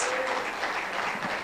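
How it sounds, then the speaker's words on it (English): Audience applause at a STEM education conference, a dense, steady clapping from a room full of people, close and sustained throughout. "with the warmest applause, round of applause to Ms. Riham Dos."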